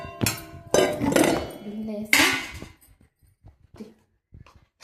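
A bowl for raw mango is set down, giving a few close clattering knocks of dish against a hard surface, followed by fainter scattered clinks.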